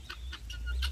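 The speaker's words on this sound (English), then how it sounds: "Guinea fowl are trifling birds." Guinea fowl on a farm animal sanctuary give a series of four sharp, raspy calls in quick succession, fairly close, over a low background rumble.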